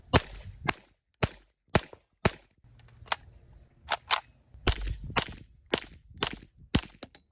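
A series of sharp, suppressed gunshots from a Kriss Vector Gen 3 at a range, fired singly and in quick pairs, then a rapid burst, each crack short and punchy with a quick decay.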